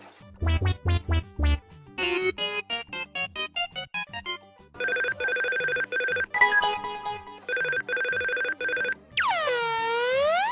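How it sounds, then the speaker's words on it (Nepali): A string of electronic phone ringtones plays one after another, beeping trills and warbling tones, ending in a sweeping chirp. "घन्टी चाहिँ गएकै गर्छ उठाएर मार्दैन त"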